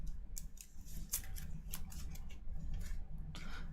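A deck of game cards from a DC deck-building game is shuffled by hand, giving a run of soft riffling and flicking bursts at close range with no talk.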